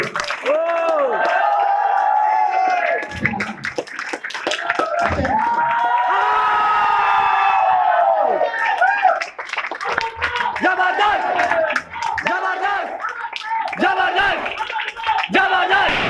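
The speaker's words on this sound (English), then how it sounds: "Can we have some more huge round of applause for our diplomat, Mr. Bashir?" A crowd cheers, shouts and claps loudly and continuously for a diplomat, with excited voices and someone shouting over the din.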